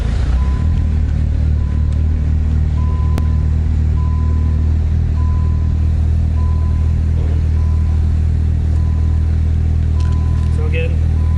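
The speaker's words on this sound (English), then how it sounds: "turn it off, turn it back on, wait for your fuel pump, do it again, and it'll fire right up." A 1994 Dodge Viper RT/10 idles steadily after starting, a deep low rumble running loud and continuous, with someone talking nearby.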